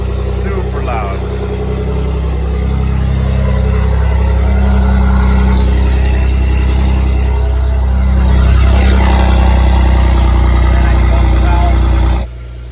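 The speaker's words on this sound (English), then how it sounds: "You can hear those turbos though. Those turbos are whistling." A Ford Raptor's turbocharged engine rumbles deep and loud with its exhaust valves open, a steady close-up growl that swells slightly near the end before cutting off abruptly.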